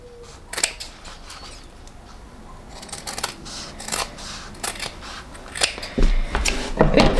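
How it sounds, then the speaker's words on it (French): Scissors snip through excess fabric at a sewing table, a series of sharp, close cutting clicks spaced irregularly, several in quick succession near the end. "je peux donc découper l'excédent de tissu sur les côtés"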